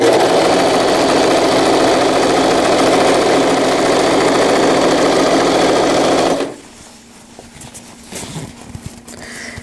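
A sewing machine stitches a zippered wetbag, running in a loud, fast, continuous rattle for about six seconds before stopping abruptly, followed by quieter handling of the fabric.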